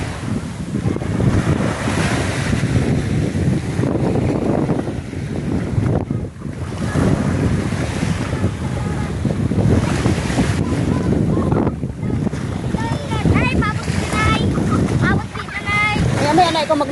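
Sea waves wash onto a warm beach amid steady wind buffeting the microphone, with people talking over the surf.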